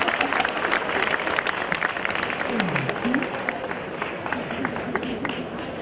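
Applause at a college Christmas celebration, a busy patter of many hands clapping steadily throughout, with a murmur of voices mixed in beneath the clapping.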